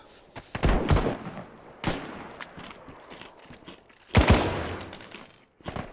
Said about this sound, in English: It's like we're trading shots.